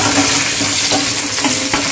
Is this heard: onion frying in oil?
yes